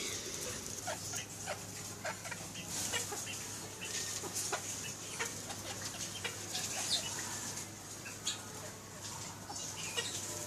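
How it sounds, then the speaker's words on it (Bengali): Several chickens, a rooster and hens, cluck and chatter in scattered bursts, fairly quiet and a little distant, over a low steady hum. "এই আমার একটা মোরগ এই দুইটা মুরগি আর এই যে আরেকটা মুরগি"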